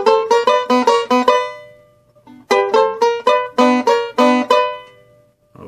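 Bluegrass banjo picking a kickoff, with crisp rolled notes and brushed open strings in two bright bursts separated by a brief pause, played close and alone.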